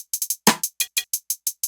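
Two percussion sounds layered in a hip-hop beat: a steady run of bright, ticking clicks with a fuller, lower hit and two midrange knocks mixed in, quick and close with no talk.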